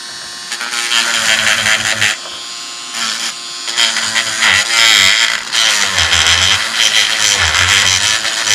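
A Proxxon PS13 detail sander with a triangular head runs continuously with a steady high-pitched buzzing whine that wavers as the head is angled into a tight spot, loud and close with some speech over it.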